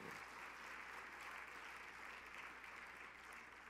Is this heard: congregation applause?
yes